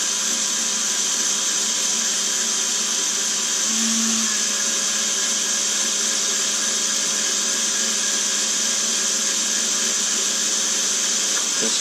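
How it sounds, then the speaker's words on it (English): A variable-speed drill bores through wood to mount an engine in a model thunderboat, a steady high whining motor hum held under constant pressure for the whole stretch, loud and close. "this won't take long to drill through this wood"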